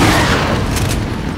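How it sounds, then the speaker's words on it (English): A grenade explodes in a shooter video game, a loud booming blast with a rough, crackling tail over about a second. "I threw a grenade at him."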